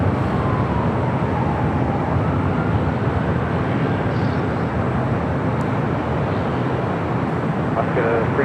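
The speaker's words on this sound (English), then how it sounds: "the Asiana A380 continues down taxiway Alpha" Asiana Airbus A380 taxiing down a taxiway at Los Angeles International Airport; a loud, continuous broadband jet engine roar holds steady and unbroken from start to finish.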